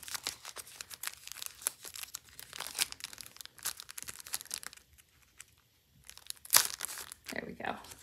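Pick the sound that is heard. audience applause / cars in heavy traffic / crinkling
crinkling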